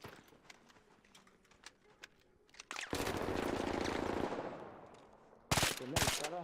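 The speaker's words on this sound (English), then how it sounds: "No, don't shoot me." Gunfire in the Arc Raiders shooter, scattered single shots first, then a long, loud burst of rapid automatic fire that trails away, followed by a short second burst close by.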